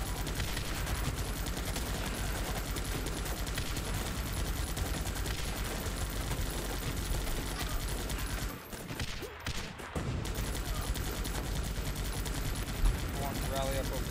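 Dense gunfire in the video game Guns Up, with continuous rapid machine-gun bursts and explosions filling the mix at high volume, dropping out briefly before resuming.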